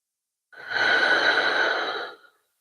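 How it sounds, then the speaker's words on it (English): A single long, steady exhale during a guided meditation, breathed close to the microphone, rising quickly and fading out after about two seconds, alone and without talking. "Release the breath."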